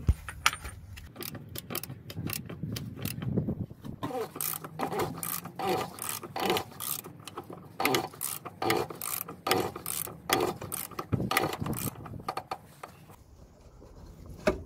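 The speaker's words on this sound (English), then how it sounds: "we're gonna use the ratchet to tighten it" A ratchet tightens a fuel filter fitting on a Ford Transit van during a service, giving a run of rapid clicking bursts close by, with short pauses between strokes and a brief quieter stretch near the end.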